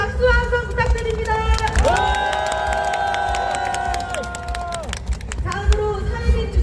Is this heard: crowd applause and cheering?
yes